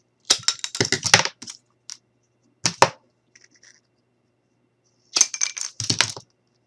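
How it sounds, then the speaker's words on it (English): A wooden craft stick being cut, heard as three close bursts of short crunching snaps and clicks with quiet pauses between and no talking. "we're going to take our stick and we're going to cut it again"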